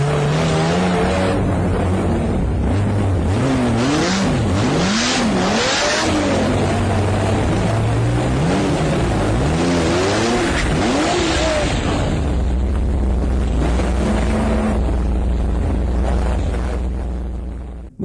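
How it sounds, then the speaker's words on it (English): A group of Ferraris leaving a car show accelerate hard through a quick turn onto the street, loud engine revs rising and falling with pitch sweeps as cars pass close by one after another. "we've got a bunch of Ferraris leaving like a car show or something like that, and as they were turning out onto the street, they were all doing kind of like a speedy turn"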